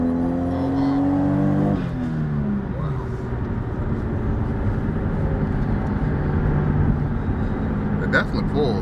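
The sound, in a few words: car accelerating, left in drive with automatic transmission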